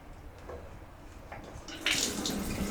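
Water starts running from a tap in a marble bathroom of an abandoned luxury mansion, a sudden hissing rush that keeps flowing steadily after a few faint clicks and rattles.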